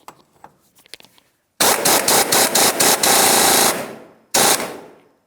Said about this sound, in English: So I'm going to be using my impact tool